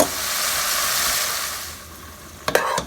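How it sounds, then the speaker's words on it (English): Beef browning in a hot oiled pan for beef stroganoff, a steady loud sizzle that eases slightly over time, with a few sharp scraping stirs near the end. "Our beef is browning beautifully"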